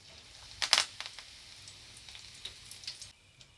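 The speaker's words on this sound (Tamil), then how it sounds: "இப்போ கருவேப்பிலை கொஞ்சம் பொரித்து அதில் போட்டுக்கலாம்." Curry leaves frying in hot oil for ribbon pakoda give a soft, steady sizzle with a burst of sharper crackling near the start, then lighter spits and pops fading into a low hiss.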